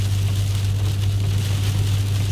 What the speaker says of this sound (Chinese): 好大雨啊！